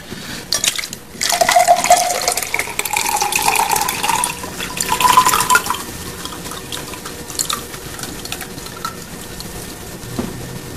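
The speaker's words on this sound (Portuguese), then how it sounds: "Será que você conseguiria só tirar a água suja, passar por esse copo, mas sem mexer na terra que tá lá no fundo?" Dirty water poured from a container into a cup, leaving the soil at the bottom: a steady close trickle and splash that fills for several seconds, then thins into drips.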